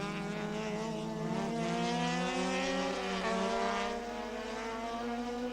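Touring cars, BMW and Honda, race at the Sepang circuit, their engines making a sustained, rising whine that shifts pitch as they pass, steady and fairly loud with no voices.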